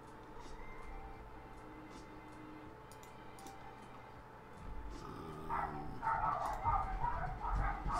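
Dogs barking at home, a faint steady ticking for the first few seconds, then louder, repeated barks breaking out near the end.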